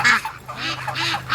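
A small group of free-range geese honking nearby among a duck flock, several loud, nasal calls in quick succession with short gaps between them.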